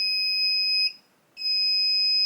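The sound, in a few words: remote control receiver beeping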